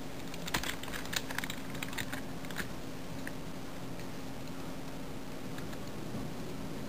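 Computer keyboard keys clatter in short bursts of quick taps while code is entered, fairly close over a steady background hum, the clicks thinning out into sparse strokes later.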